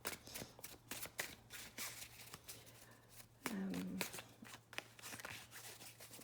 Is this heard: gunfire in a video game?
no